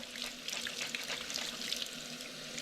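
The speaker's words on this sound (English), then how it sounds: "And then just rinse it with water." A Swedish dishcloth is rinsed under warm tap water, with a steady close splashing flow and small irregular spatters as the cloth is worked under the faucet, fairly quiet and with no talking.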